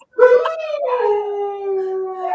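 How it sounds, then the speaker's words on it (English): Several pit bulls howl indoors, one long, clear, wavering howl rising then sliding down, close and loud, with other dogs joining faintly near the end. "They're howling."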